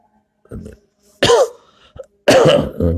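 A man coughs and clears his throat during a religious study session, two rough bursts separated by a short pause, close and fairly loud, with a faint muffled voice before them.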